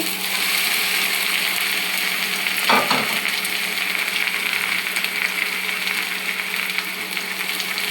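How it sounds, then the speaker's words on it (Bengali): Dhenki shak greens tipped into a pan of browned onions set off a steady, loud sizzle, with a brief rustling splash as the leaves land, then continuous frying crackle with no talking. "দেখবেন পেঁয়াজগুলো বাদামি কালার হয়ে গেছে, তখন শাকগুলো ঢেলে দিবেন। শাকগুলো ঢেলে দিয়ে দিচ্ছি।"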